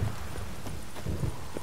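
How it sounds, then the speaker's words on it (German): A horse's hooves clip-clopping in the Witcher 3 Hearts of Stone expansion: a steady run of muffled hoofbeats over a low ambient rumble. "Aber mein Pferd steht schon vor der Tür."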